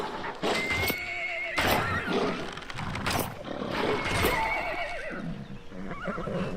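A horse in the video game Skyrim VR whinnying and neighing repeatedly, loud and close, with hooves clopping and other game sounds under the calls.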